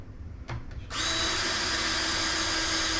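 A power drill driving screws into a replacement driver on a REL 1508 Predator home theater subwoofer, a couple of short trigger blips followed by a sustained loud whirring run, close up.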